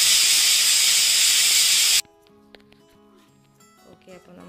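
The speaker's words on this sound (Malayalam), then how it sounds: "നമ്മൾ ഈ കുക്കർ അടച്ച് ഒരു വിസിൽ കേൾക്കണം" A pressure cooker whistles loudly while chicken cooks for biryani, a steady, intense hiss lasting about two seconds that cuts off abruptly, leaving faint kitchen clatter and quiet background sounds.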